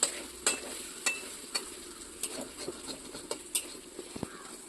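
Okra (bhindi) frying in oil gets stirred with a utensil, producing a series of distinct scraping taps at a roughly regular pace over a soft background sizzle.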